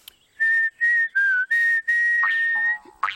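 A clear, close whistled tune in several separate phrases with short pauses, ending in a brief rising note.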